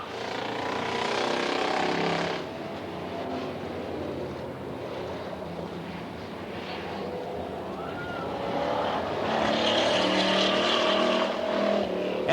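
Race cars lapping a dirt oval at Coos Bay Speedway in 1988, a continuous broad roar of engines passing in the distance that swells and fades over several seconds, with no voices.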